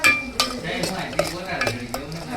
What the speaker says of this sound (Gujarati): અને હવે આપણે તેને બધા મસાલાને મિક્સ કરી અને તેલમાં થોડી વાર માટે ચડવા